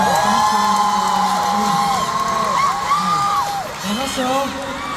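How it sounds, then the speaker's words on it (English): A concert crowd at a show in Manila cheers and whoops loudly for five seconds, shrill voices rising and falling in a dense wash of excited shouting and applause. "Give him a round of applause."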